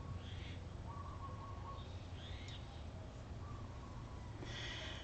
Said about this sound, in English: You like hearing all the birds?